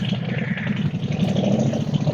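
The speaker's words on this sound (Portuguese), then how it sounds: "Só uma moto está passando aqui, desculpa o barulho." A motorcycle passes nearby outdoors, a steady mid-pitched engine drone holding at a fairly constant level for a couple of seconds with no speech over it.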